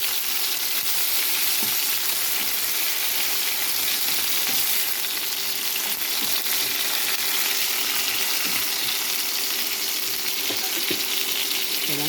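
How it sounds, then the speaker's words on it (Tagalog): Tomatoes and carrots sauté in hot oil in a home kitchen pan for Filipino beef caldereta, giving a steady close sizzle and crackle throughout with a few soft stirring knocks, and no talking. "Gisa na rin natin muli ang mga tomatoes and carrots."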